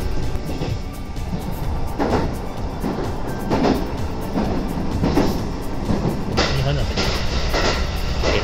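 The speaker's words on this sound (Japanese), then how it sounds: "ただいま当列車は兵庫県を抜けまして岡山県に入りました。" A Japanese local train running between Hyogo and Okayama gives a steady, close rumble with rhythmic clacks from the wheels and faint background noise throughout.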